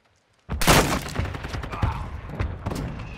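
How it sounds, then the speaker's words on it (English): Mortar strike explosions in Call of Duty Modern Warfare 2: after a brief silence, a loud close blast erupts, followed by a rumbling barrage of further thuds and crackling impacts that fade unevenly. "Friendly mortar strike inbound."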